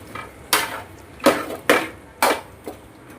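A utensil scrapes and knocks against a cooking pan as vegetables are stirred and sautéed for a village-style kohlrabi curry, with about five sharp clattering strokes at an uneven rhythm, close and distinct.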